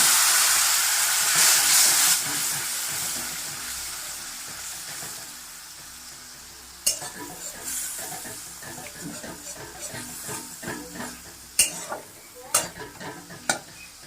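A frying dish sizzles and hisses steadily after a splash of water is added, then a spoon scrapes and stirs the pan in irregular knocks and clatters, moderately loud and close.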